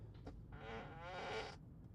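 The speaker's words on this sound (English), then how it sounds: "Everyone's screaming, do the fart," A fart sound effect from the Toy Box mode of a Tesla Model 3, played through the car's cabin speakers as a single sustained, buzzy, wavering blast lasting about a second, fairly quiet and alone.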